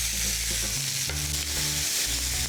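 Ground beef fries loudly in a pan with a constant dense sizzle, while a utensil scrapes and breaks up the meat in low, irregular strokes.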